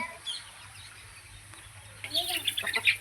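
Native-breed chickens and roosters cluck and chatter close by, a quiet stretch of background hum first, then a burst of clucking and squawks toward the end.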